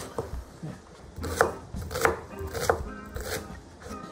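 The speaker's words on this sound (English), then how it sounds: "So we are cutting 3 onions" Onions being chopped on a cutting board for a vegetarian stew: a handful of firm knife knocks at a slow uneven pace, close up, with no talking.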